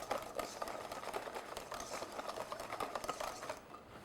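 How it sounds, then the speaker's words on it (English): A wire whisk beating cream quickly in a bowl, giving a steady fast scraping and swishing that runs continuously at moderate loudness. "And whisking really quickly."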